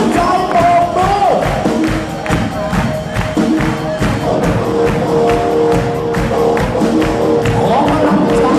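A crowd of inmates and visitors clap their hands at a stress-relief event in the Prachinburi provincial prison, steady dense clapping and thumps over loud music and voices throughout.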